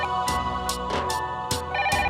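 A mobile phone rings on without being answered, a looping electronic ringtone of regular chiming pulses, close and steady across the stretch, with no one speaking over it.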